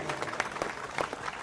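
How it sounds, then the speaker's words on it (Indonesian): Audience in a religious lecture hall clapping, a short burst of scattered applause at moderate volume with some voice mixed in. "boleh kita tepuk tangan semua yang ikhlas"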